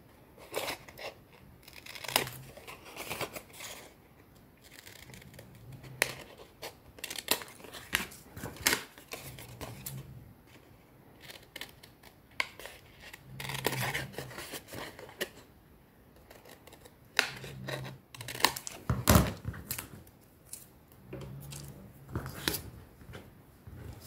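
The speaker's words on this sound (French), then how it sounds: "Donc je coupe mes angles." Scissors cut the corners of a paper gift pouch in a run of short, crisp snips and crinkles close by, spaced irregularly with quiet gaps between them, and no talking.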